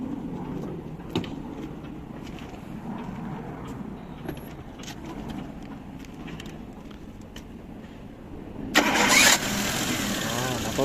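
A 2008 Daewoo Matiz with manual transmission cranks and catches with a sudden loud burst near the end, settling into a close, steady idle, after a stretch of low background noise and people talking.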